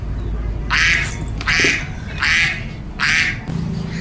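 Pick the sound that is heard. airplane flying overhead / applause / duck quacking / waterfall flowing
duck quacking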